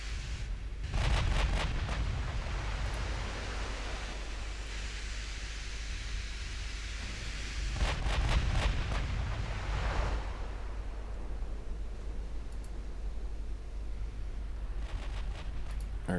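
Warship naval gunfire in Ultimate Admiral Dreadnoughts, distant heavy booms arriving in clustered volleys over a constant rumbling sea-like wash, with rolling thunder between salvos.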